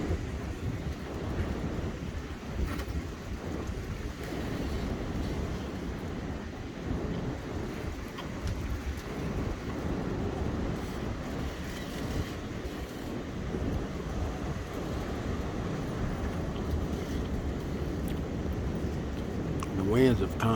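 High winds sweep a back porch in Parkville, Missouri, during a nighttime lightning storm, making a loud, steady, close roar of gusting air with no break across the whole stretch.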